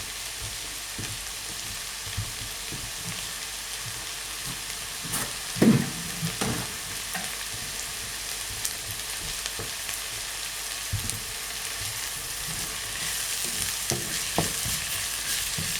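Bolognese sauce frying in a pan gives a steady sizzle with crackling spits and occasional stirring clatter, including a brief louder knock near the middle, all fairly close and with no talking.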